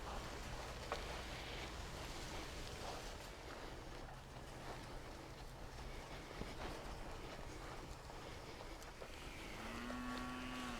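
Cattle on a farm moo near the end of a long stretch of steady outdoor noise, one low drawn-out call rising out of the background hiss.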